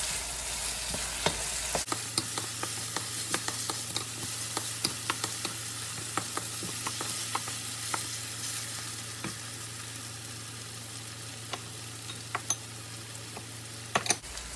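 Fresh diced carrots stir-frying in a pan for ham fried rice, a steady close sizzle with a low hum and scattered sharp clicks of a utensil scraping and stirring throughout.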